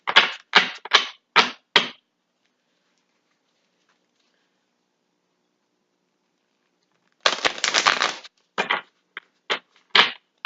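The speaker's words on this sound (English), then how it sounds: "I'll pull a couple more cards and see if I can find out why" Cards pulled from a tarot deck make quick papery flicks and riffles: a run of short bursts, a long silent pause, then a denser burst followed by several more crisp flicks, close and alone without talk.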